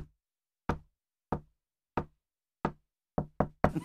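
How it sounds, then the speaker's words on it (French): Knocking on a door, seven sharp raps spaced unevenly, with the last few coming quicker and closer together, each one clear and close against silence. "Le bruit quand on toque à la porte."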